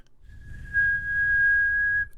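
A person whistles a single steady high-pitched tone, imitating a ringing in the ears, held for about a second and a half over faint low rumble.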